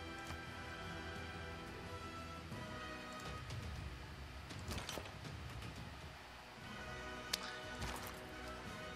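A horse cavalry unit in the Civilization 6 video game moves with rhythmic clip-clopping hooves, mixed with creaks and a few sharp knocks over a low, continuous background.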